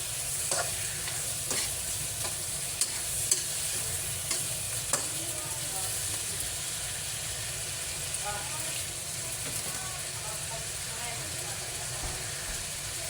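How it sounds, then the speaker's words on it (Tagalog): Chicken liver and gizzard adobo stirred and sautéed in a pan, a continuous soft sizzle with scattered scraping clicks of the spoon against the pan, fairly quiet and close. "haluin siya guys"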